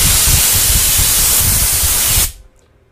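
Compressed air blasts from a nozzle as a loud, steady, broadband hiss up close, holding constant for about two seconds before cutting off abruptly into near silence.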